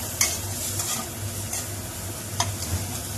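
Chopped ginger stirred into a fried egg in a hot pan for egg chowmein: a steady oily sizzle with a couple of sharp spatula scrapes against the pan.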